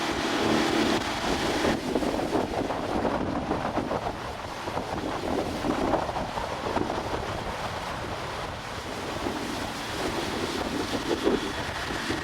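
Cold wind buffets the microphone on a lake during a boat ride past floating ice, a loud steady roar with water rush and boat rumble beneath, lasting throughout.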